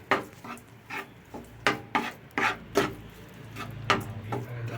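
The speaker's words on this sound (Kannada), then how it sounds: "ಅರ್ಧ ಅಷ್ಟು ಖೋವಾ ಹಾಕ್ಕೊಂಡು ಅದನ್ನು ಸ್ವಲ್ಪ ಚೆನ್ನಾಗಿ ಫ್ರೈ ಮಾಡ್ಕೋಬೇಕು" Khova being fried and stirred in a pan for laddu, heard as a run of distinct scraping strokes of a spoon against the pan, about ten in an uneven rhythm, close and fairly quiet with no talking.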